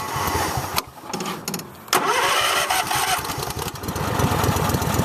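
A garden tractor engine, one of a Husqvarna owner's machines, cranks and catches twice, then runs steadily and loudly up close with an uneven mechanical chug.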